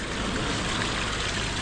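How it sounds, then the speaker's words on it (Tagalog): Water at a Pangasinan beach outing runs in a dense, steady hiss, like a continuous stream or pour close by, loud and unbroken. "Tumutulo dito."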